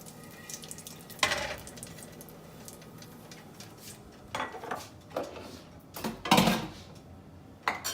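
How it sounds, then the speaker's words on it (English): Whole spices, cardamom and black pepper among them, tempering in a non-stick pan: a low sizzle runs throughout, punctuated by sharp scrapes and metallic clinks of a utensil against the pan. "We're going to just temper the spices a little bit."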